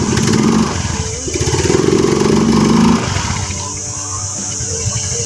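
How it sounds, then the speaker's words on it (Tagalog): A Yamaha Mio scooter engine with a delayed throttle response revs and drones loudly up close, swelling for a couple of seconds before settling back to a steady idle-like hum. "So nag-accelerate ka ngayon, bibilang ka pa ng ilang segundo bago umarangkada yung motor."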